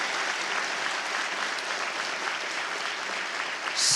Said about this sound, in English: I want to give our veterans a special round of applause and recognition as well.